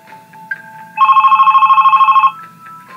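Synthetic telephone ring from a video game: a fast, regular electronic trill repeating for over a second, loud and close, with quieter game tones before and after it.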